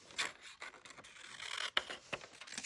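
Soft rasping and scraping as paper is trimmed for a Christmas junk journal, faint and close, with several short cutting strokes and a few sharper snips.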